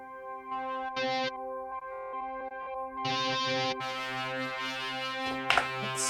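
A flanger effect on a Korg Opsix synthesizer sweeps across sustained, harmonically rich tones, with bursts of bright noisy texture and swirling, echoing shifts, played alone without voices.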